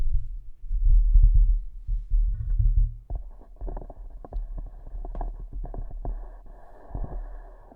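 Fifine K688 microphone picks up handling noise as it is touched: deep low thumps and rumbles at first, then a run of scraping, knocking contact sounds, close and moderately loud with no talking.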